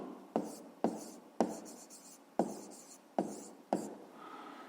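Pen strokes on paper during a fifth-grade maths exercise, six sharp taps each followed by a short scratching run of writing, close and steady with no talking.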